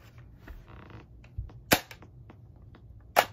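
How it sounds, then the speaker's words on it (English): A Nerf Shellstrike DS-6 blaster fires a single dart with a sharp, close snap, followed by a second similar crack and some faint handling clicks, all in a quiet room. "Firing 1 dart."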